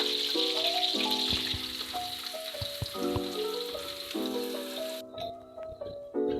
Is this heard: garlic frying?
yes